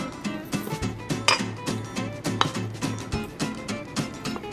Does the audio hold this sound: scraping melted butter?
yes